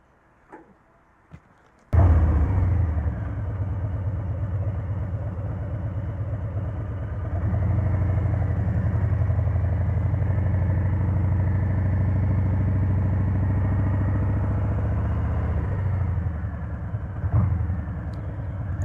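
A Harley-Davidson Street Bob 114 motorcycle starting up and riding on a highway, a loud, steady low engine rumble with wind noise that swells after a few seconds and continues throughout, no talking.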